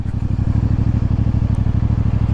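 A 2024 CFMOTO 450CL-C motorcycle engine runs steadily while being ridden, a loud, close, continuous low throbbing with no pauses and no talk.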